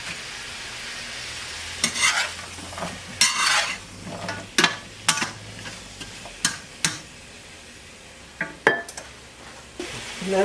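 Carrots and green beans sizzle in a hot pan with a soft, steady frying hiss, broken by repeated sharp clinks and scrapes of a utensil stirring against the pan.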